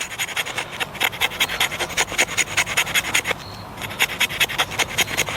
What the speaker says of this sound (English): this is a wax wood stick, essentially a fake piece of fat wood. So you can scrape off scrapings, just like fat wood.